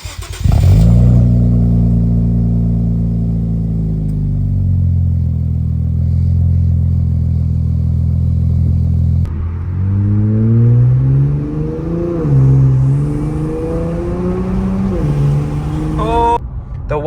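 Infiniti Q60 twin-turbo engine fitted with a Tomei Expreme-Ti full titanium exhaust and Y-pipe, revving loudly and close by, holding a steady drone before rising in several climbing revs near the end.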